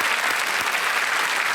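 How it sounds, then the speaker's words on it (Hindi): A studio audience on the quiz show Kaun Banega Crorepati claps loudly and continuously to welcome a guest, a thick wall of applause with no pauses. "एक बार फिर तालियों के साथ आपका स्वागत"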